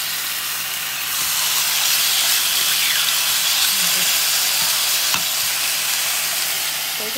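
Steak frying in a pan at home, a steady loud sizzle and hiss that holds evenly throughout with faint scrapes and clicks of stirring.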